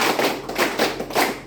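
A classroom group claps in unison during a counting clap game, about five sharp claps in an even rhythm, close and fairly loud.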